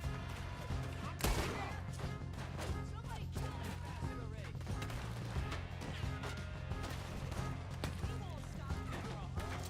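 Scattered gunfire crackles through a Red Dead Redemption 2 firefight, sharp shots recurring irregularly across the span, one louder blast near the start, with someone talking throughout.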